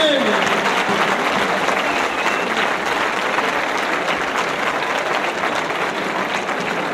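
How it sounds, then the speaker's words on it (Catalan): A large crowd in a town square at a giants festival in Calella claps loudly and continuously. The dense wash of applause holds at an even, strong level for several seconds, with faint crowd voices mixed underneath. "fort aplaudiment."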